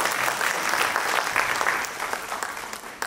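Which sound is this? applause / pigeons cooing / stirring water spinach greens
applause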